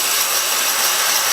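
A belt grinder running at low speed grinds a metal piece against its flat platen, producing a continuous, loud, even hiss that holds steady throughout.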